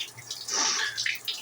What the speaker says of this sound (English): taking an ice cold shower every morning